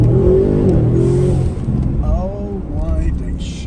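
An Audi RS7 growls with a deep, throbbing engine note that swells as it accelerates and revs, its pitch sweeping upward in short bursts, close and loud.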